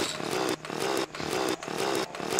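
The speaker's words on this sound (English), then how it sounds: "I hear you. I hear your drill." A drill runs in the video game Terraria with a loud, buzzing motor whine that repeats in steady pulses, each broken by a brief dip, close and continuous with no voices.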